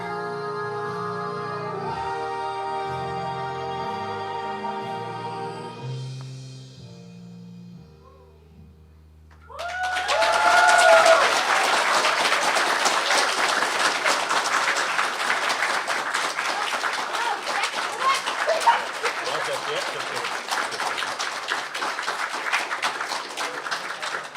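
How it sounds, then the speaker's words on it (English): A music phrase ends and then a convention panel crowd breaks into loud, sustained applause after a song, dense clapping that swells quickly and carries on for about fifteen seconds with a few whoops. "I love how you're clapping there, Hank."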